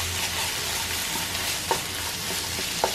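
Ginger garlic paste is stirred into boiled lentils, giving a dense, even sizzle with two soft stirring knocks. It is brief and close, with no talking.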